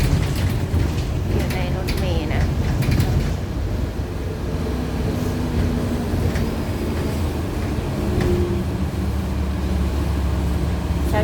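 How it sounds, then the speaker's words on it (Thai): Steady low rumble of a moving city bus interior at 6 a.m. in minus three degrees, with constant engine drone and rattling, voices talking faintly over it. "บรรยากาศรถเมล์ก็ประมาณนี้นะคะ"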